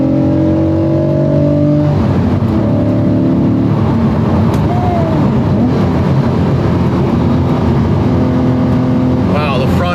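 A Porsche 997.2 GT3 RS engine with loud induction noise while driving, the flat-six pulling through rising and falling revs close up inside the car, with a shift near the middle and a voice speaking over it.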